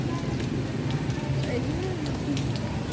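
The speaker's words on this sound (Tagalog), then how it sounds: "Lakas ng ulan." Heavy rain pours down in a steady, dense hiss on surfaces nearby, constant and close.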